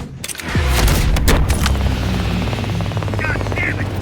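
Heavy gunfire and explosions in the video game Call of Duty Black Ops Cold War, a loud continuous barrage of booming shots and rapid fire with a helicopter-like rumble, with voices briefly heard.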